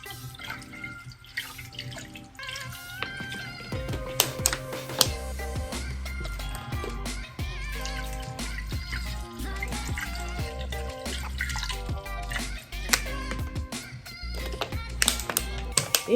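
Meat rinsed under a running kitchen tap, with water splashing and drumming into a bowl or sink for the whole stretch, close and fairly loud, and no one speaking.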